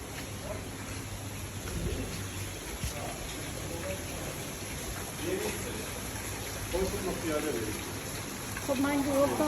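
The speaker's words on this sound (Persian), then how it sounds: "بارونه بایی حال میده ولی بارونه" Steady rain falls in Phuket, Thailand, an even hiss of drops on surfaces throughout while people talk quietly over it.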